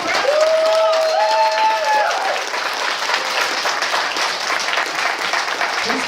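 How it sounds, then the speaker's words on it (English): A crowd at a furry convention in Raleigh breaks into loud, sustained applause that fades slightly toward the end, with whoops and cheers ringing out over the clapping early on. "Let's give a round of applause."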